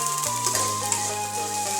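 Onion and ginger frying in hot mustard oil in a wok, a loud, dense, steady sizzle close by with faint stirring, no voices.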